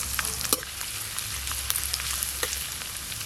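Star anise, chopped garlic and ginger fry in a generous amount of white oil with a steady, bright sizzle and crackle. Occasional louder pops and stirring scrapes sound throughout.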